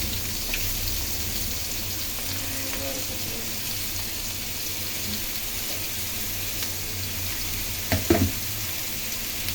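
Onions and garlic sizzling in a pan for a fish curry, a continuous even frying hiss with a quick clatter of stirring near the end.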